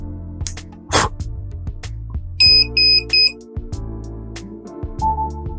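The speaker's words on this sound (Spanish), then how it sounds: "aquí tenemos nuestra alarma de que ha recibido gas" A boat's gas detector alarm sounds after sensing gas, giving a few short repeated electronic beeps in the middle amid quieter background tones, with no speech.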